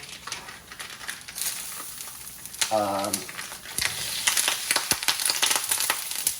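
Ground beef hitting a hot, lightly oiled pan, crackling and popping in uneven bursts, with spatula scrapes and a brief tonal clatter partway through.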